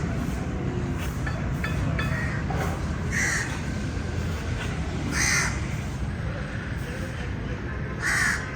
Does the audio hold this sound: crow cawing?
yes